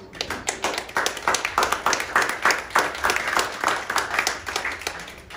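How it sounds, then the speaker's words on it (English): A room of people applauds military veterans, a lively clapping from a modest crowd with individual claps clearly audible in a brisk, uneven rhythm. "And can we have a nice round of applause?"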